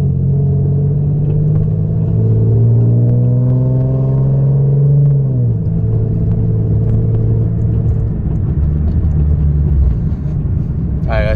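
Deep engine rumble from a car with a Tomei exhaust and 7-inch extension, driving, the low drone rising and shifting as it accelerates, continuous and close throughout.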